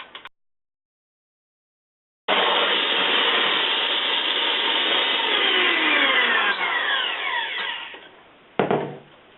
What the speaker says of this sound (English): Luckily, I just got my Food Network hand mixer